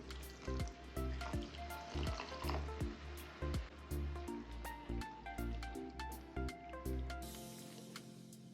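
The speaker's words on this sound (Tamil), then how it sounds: "தண்ணி சேர்த்ததுக்கப்புறம் நல்லா மசாலாவை கொதிக்க விடுவோம்." Masala with added water cooking in a pan for a paneer kari kulambu, loud continuous bubbling and sizzling with rhythmic popping bursts, close up, no talking.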